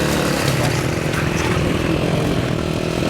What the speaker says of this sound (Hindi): ये लोग यहाँ पे बाइक पे रेस कर रहे हैं प्रॉपर